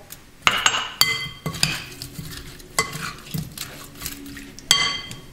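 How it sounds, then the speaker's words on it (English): Tomatoes going into a pan of sizzling shrimp curry, with sharp metal utensil clanks and scraping stirs against the pan over a soft sizzle, loud and close. "And I'll go ahead and add my tomatoes in there."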